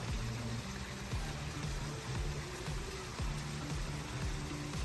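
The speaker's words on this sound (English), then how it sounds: "They'll see the waterfall." Water tumbling steadily over a large landscaped backyard waterfall feature, a constant rushing wash with a low gurgling undertone, close by and unbroken.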